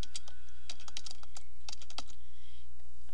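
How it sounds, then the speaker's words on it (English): Rapid bursts of computer keyboard typing while entering text in ebook cover design software, with clustered keystrokes and short pauses, close and clear with no talking. "You just double click right where you want to start typing, delete, and then start typing."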